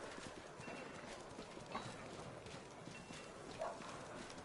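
Horses in the fantasy role-playing game Pathfinder: Wrath of the Righteous clop hooves at a stable, with a soft whinny or two among the quiet, steady background.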